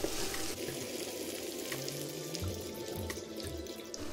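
Potatoes with onions frying in oil for aloo gobi, a dense, continuous close sizzle with crackling pops and a low hum underneath.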